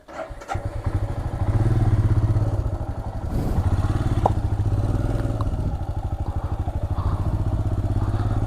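Motorcycle engines idle and rev nearby at a police checkpoint in the Spiti Valley, with a steady rough putter, occasional clatter and thumps, and little talk.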